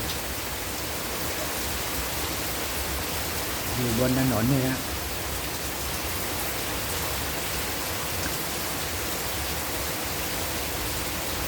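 Heavy, unbroken rain falls on a road outside, a dense even hiss that fills the whole stretch, with someone speaking briefly over it partway through.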